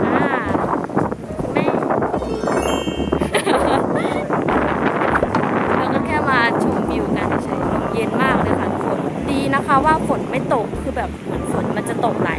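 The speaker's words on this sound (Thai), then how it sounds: "ลมเย็นมากเลย" Strong wind buffets the microphone at a seaside viewpoint in Rayong, a steady loud rush running the whole time under continuous talking.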